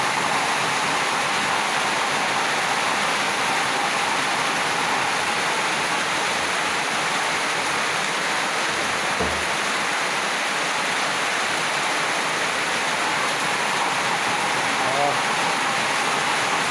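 Steady, hissing rush of water overflowing from a tank, pouring and splashing continuously; a constant wash of noise with no clear pauses.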